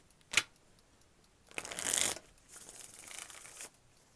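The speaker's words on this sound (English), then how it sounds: "Okay, one more shuffle." Tarot cards shuffled by hand, a quick riffle snap followed by a louder, longer burst of flicking and sliding cards, fairly faint and close with no talking.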